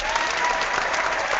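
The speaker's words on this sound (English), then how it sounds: "Everybody loves that little bit of applause." Short burst of dense applause from a crowd, steady and fairly loud throughout with no pause, heard alone without talk.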